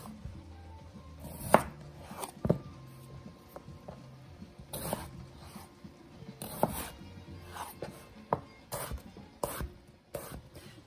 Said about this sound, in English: So I'm just cutting them into nice bite-sized chunks.